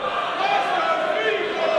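Wrestling crowd at an Uprising 2021 match between Michael Oku and Speedball Mike Bailey, a dense, steady roar of cheering and shouting voices filling the arena, continuous and fairly loud.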